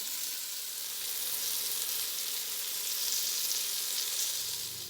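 Beef tips brown in a pot for beef and dumplings, a bright, continuous hiss of frying fat that stays loud and even throughout with no voices over it.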